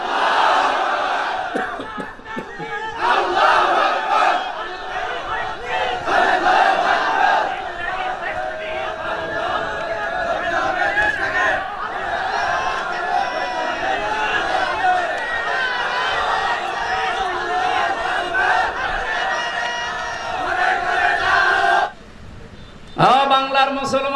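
A crowd at an Islamic sermon shouts the takbir in response, a loud, sustained mass of voices calling out together for most of the stretch, ending with a brief pause and renewed shouting.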